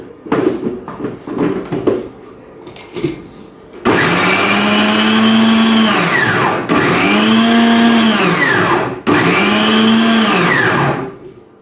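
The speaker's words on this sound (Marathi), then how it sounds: "आता हे आपण मिक्सरमध्ये फिरवून घेणार आहोत।" A mixer grinder blends corn kernels into a paste, running in three long, loud, steady bursts separated by brief pauses. A few seconds of quiet talk and handling come before the motor starts.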